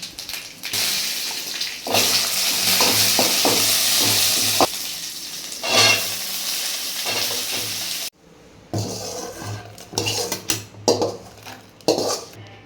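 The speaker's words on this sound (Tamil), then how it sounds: "கம்மியாக எண்ணெய் ஊற்றி தாளிச்சுக்கும். சோம்பு, வெந்தயம், கடுகு தாளிக்க, ஒரு வரமிளகாய்" Fennel, fenugreek and mustard seeds sizzle and crackle as they temper in a little hot oil with a dried red chilli, a loud frying hiss that cuts out, then sporadic pops and utensil clinks.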